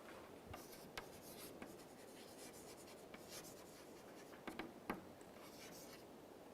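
A proof being written by hand during a lecture, with a soft, continuous scratch of pen or chalk strokes and a few sharper taps, faint and close with no talk.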